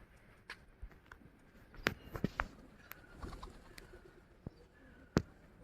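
Wild pigeons coo softly while courting, low, repeated calls close by in a quiet outdoor setting, with scattered light taps and rustles between them.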